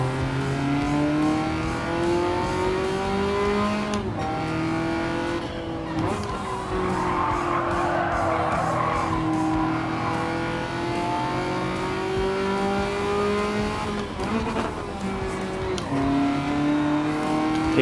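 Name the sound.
race car braking into corner, Gran Turismo 7 video game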